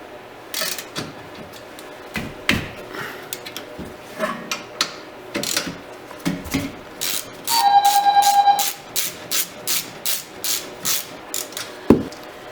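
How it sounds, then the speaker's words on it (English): A ratchet loosening the rear brake guide pins on a 2010 Volvo V50: irregular clicks and knocks, then a fast even run of ratcheting clicks with a short whirring tone, followed by slower spaced clicks, close up and without talking. "And then you can loosen up the guide pins using a 7mm"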